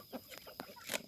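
Short clucks from a native Thai chicken, a few quick calls close by over a faint background hum.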